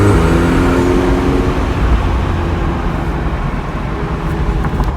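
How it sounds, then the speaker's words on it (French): McLaren 720S engine warming up after sitting a long time, a steady deep idling rumble heard close and loud throughout, with no talking. "Là, on fait d'abord chauffer la voiture vu qu'elle était posée assez longtemps en shooting."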